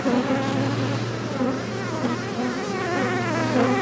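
A dense, steady hum of many package honey bees buzzing close by while being installed in a four-way mating nuc, continuous and droning without pause.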